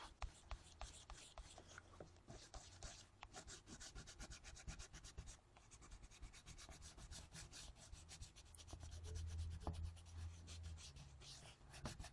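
A colored pencil being sharpened up close, a quiet, steady grinding and scraping with repeated rubbing strokes, faint and alone without talk.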